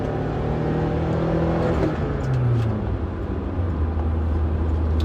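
Loud engine drone inside a car accelerating, the pitch climbing then dropping sharply as it shifts from second to fourth gear and settles into a lower steady hum, with no talking.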